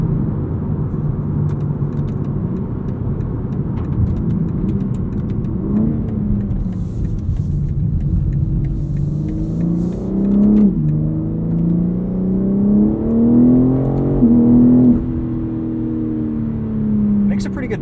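2021 BMW M3 Competition engine pulling above 3,500 RPM, a loud droning cabin roar climbing in pitch through the gears with brief shift dips, while a person talks over it.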